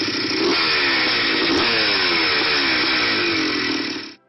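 A Honda CR500 two-stroke 491 cc motocross bike engine revs hard and continuously, its loud buzzing pitch rising and falling in repeated surges with no speech over it.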